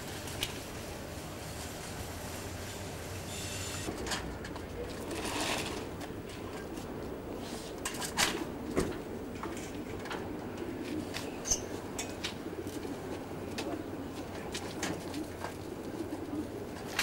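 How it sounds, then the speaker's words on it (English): Racing pigeons entered in an Alencon race make soft, low cooing over a steady outdoor background hum, with occasional faint clicks and rustles. "The pigeons are going to Alencon"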